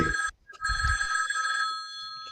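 An old telephone bell rings in the 1972 film The Night Stalker, a shrill metallic trill that briefly breaks off and then resumes, sustained before fading, with low thumps early on.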